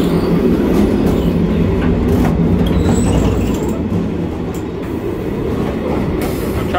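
A passenger train travels from Sweden to Norway, heard from inside the carriage as a loud, steady rumble with rhythmic wheel clatter throughout.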